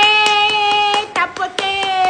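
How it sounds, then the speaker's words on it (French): A mother applauding with her hands, a steady run of close, sharp claps over a sustained musical tone. "Maman même applaudit."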